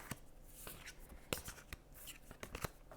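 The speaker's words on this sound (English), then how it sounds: "I'll give them a good shuffle." Oracle cards being shuffled by hand, a quick run of crisp riffling snaps and soft shuffles, close and fairly quiet, with no talking.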